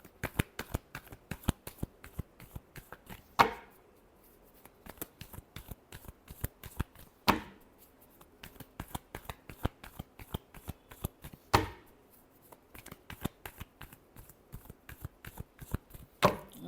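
Tarot cards are shuffled in rapid, crisp riffling taps close up. Every few seconds a louder slap or bridge breaks the quick rhythmic clicking, and no voice is heard.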